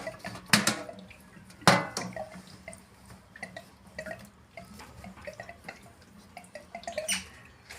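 Water drips and splashes from a combi boiler being cleaned, with a few loud close drops early on and scattered lighter drips and trickles after, no talk.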